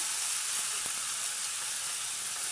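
Okra and squash sauté in a pan, giving a steady close sizzle with a few faint stirring scrapes and no talk.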